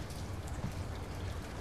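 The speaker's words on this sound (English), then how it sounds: "Raining outside" Steady rain falling outside an apartment in a horror video game, a dense, even wash of patter with no pauses and no voices.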